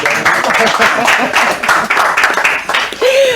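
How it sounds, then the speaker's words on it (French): Crowd applause with clapping hands, mixed with overlapping voices and a cheer, lasting a few seconds. "Est-ce que vous pouvez applaudir pour nous"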